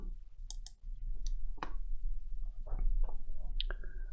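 A computer mouse clicks sharply several times, close and distinct, over a low steady hum with a few faint soft shuffles between the clicks.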